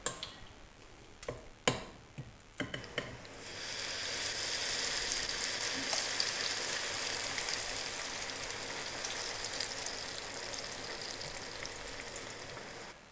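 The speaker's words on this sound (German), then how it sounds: "meine zweite Ladung Reibekuchen ist jetzt in der Pfanne" Reibekuchen, grated potato pancakes, go into a pan of oil after a few sharp clicks and taps, then a loud, steady crackling sizzle fills the rest, close and continuous with no talk.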